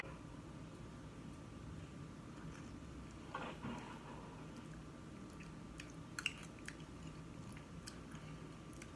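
Someone quietly tastes a spoonful of hot, creamy vegan tomato soup, with soft chewing and slurping close to the microphone over a low steady background hiss and no talk.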